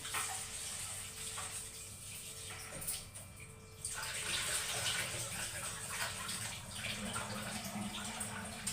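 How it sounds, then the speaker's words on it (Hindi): Rice washed under a running tap in a home kitchen, a steady hiss of flowing water with sloshing and splashing that swells partway through. "धो रही हूँ चावल"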